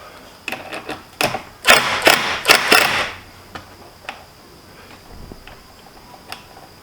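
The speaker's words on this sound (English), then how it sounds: "with a wrench. I don't want to over tighten those, that's for sure." Metal wrench work on bolts during an Openroad 13,000 lb 12V electric synthetic rope winch install: a cluster of quick ratcheting clicks and clinks, then a few sparse faint taps, close by with no talking.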